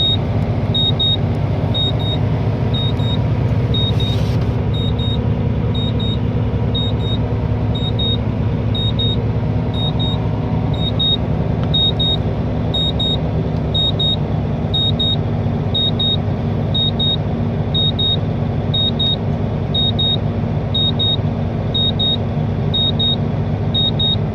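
A truck engine idles steadily at 1200 rpm during an air brake compressor test, a continuous low rumble with a regular electronic beep repeating throughout, no speech.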